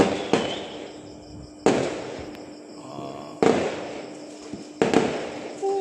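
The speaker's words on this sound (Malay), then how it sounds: "Ramai orang bakar mercun." Firecrackers are set off outdoors on the eve of Raya at the end of Ramadan, four sharp bangs spaced about a second apart, each trailing off, with a faint steady tone and light night ambience between them.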